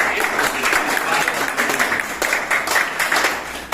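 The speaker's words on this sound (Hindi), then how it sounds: "तो बाल देवता एक दूसरे का तालियों से स्वागत करें, अभिनंदन करें।" Children at a youth values camp clap to welcome one another, a loud, dense burst of applause with uneven pulses that continues steadily for a few seconds.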